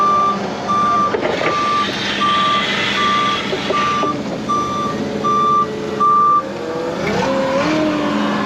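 A truck backs up, its reversing alarm beeping in a steady, evenly spaced rhythm over a loud diesel engine; near the end the engine note shifts as the truck moves off.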